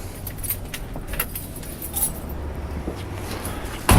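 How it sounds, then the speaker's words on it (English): Keys to a 1966 Plymouth Satellite Hemi jangle and clink repeatedly, near and fairly loud, with light metallic rattles scattered throughout and a sharper knock right at the end. "Let's grab the keys and we'll get in the trunk."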